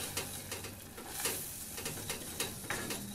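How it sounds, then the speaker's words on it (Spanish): Corn flour being stirred and toasted in a pan, a soft continuous sizzle with light scraping strokes repeating at an even pace, close and fairly quiet. "la voy a mezclar hasta que esta harina se dore"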